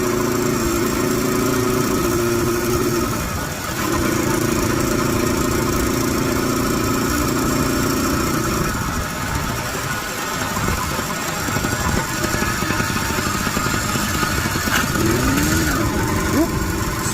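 A Zeda100 DIO two-stroke engine on a Brigand chopper motorized bicycle, still in break-in, buzzes steadily and loudly while riding, with a brief dip in revs near the middle and wind noise throughout.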